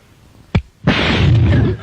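A television explodes: a sharp pop followed moments later by a loud burst that sustains as a crackling, hissing roar for about a second before cutting off.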